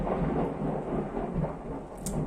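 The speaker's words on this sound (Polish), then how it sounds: "Burza." Thunderstorm with a continuous low rumble of thunder under a wash of rain, loud and steady throughout with no voices.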